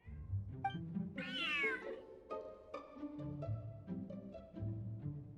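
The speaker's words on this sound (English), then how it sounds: "this cat is way bigger than the others" Cat in the video game Genshin Impact meowing, with one prominent drawn-out meow among softer game sounds and background music, no talk.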